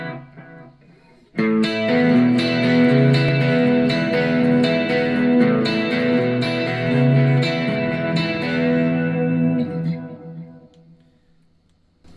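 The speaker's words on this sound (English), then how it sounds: "let's just choose a chorus, and then we can reintroduce the delay and the reverb to have 3 simultaneous effects at one time." A guitar runs through a Blackstar ID Core amp with chorus, delay and reverb all active. Shimmering, echoing chords ring out for about ten seconds, then fade into a long reverb tail.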